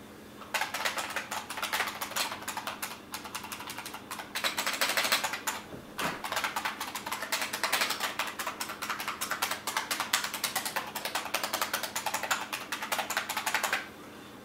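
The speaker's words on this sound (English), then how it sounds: "This is what an IBM Model M sounds like when you press the keys." IBM Model M buckling spring keyboard being typed on, a rapid, dense stream of sharp, loud clicks with one brief pause, close and otherwise uninterrupted.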